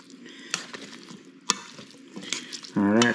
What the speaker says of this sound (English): all you do is just go around and mix all your little goodies up